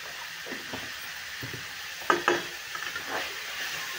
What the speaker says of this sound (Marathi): छान मस्त असं आपल्याला हे परतून घ्यायचं आहे टोमॅटो मसूर वगैरे आपला.